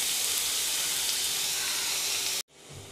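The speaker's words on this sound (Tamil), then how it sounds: "அதே மாதிரி வெங்காயமும் நல்லா வதங்கட்டும்" Onions and garlic frying in a pan for restaurant-style garlic chicken give a dense, even sizzling hiss that holds steady for over two seconds and then cuts off abruptly, leaving a quieter background.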